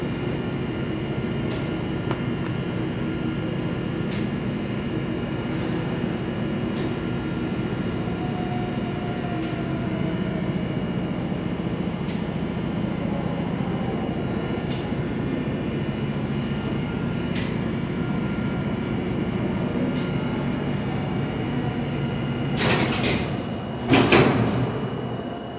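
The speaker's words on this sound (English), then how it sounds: "Hear the relays for the automatic elevator." A steady low mechanical hum of a 1930 gated automatic elevator in a library tower running, with faint relay clicks ticking at intervals and a few louder clunks near the end.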